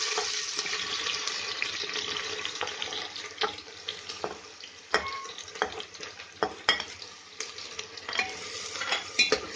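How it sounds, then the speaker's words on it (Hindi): Chopped onions hit hot oil with crackling whole spices in a pressure cooker, giving a steady bright sizzle with a few sharp clinks of stirring against the metal pot, close and clear with no talk. "मैं ये प्याज भी डाल देती हूँ इसमें।"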